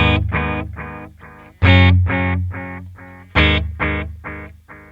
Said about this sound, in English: It's a mid-length delay.